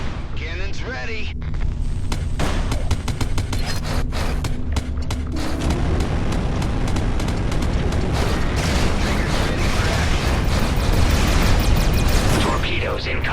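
Heavy cannon fire and explosions rumble continuously in the Everspace 2 space-combat video game, with repeated bursts and booms layered over dense, loud noise and some game voices.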